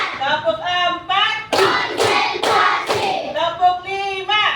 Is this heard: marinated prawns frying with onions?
no